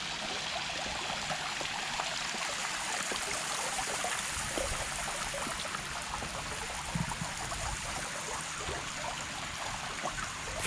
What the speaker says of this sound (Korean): 워터 파운트도 있고